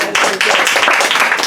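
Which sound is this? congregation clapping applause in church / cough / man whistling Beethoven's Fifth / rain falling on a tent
congregation clapping applause in church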